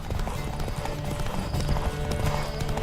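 A horse gallops in The Witcher 3, rapid rhythmic hoofbeats pounding steadily and close throughout, with faint speech underneath.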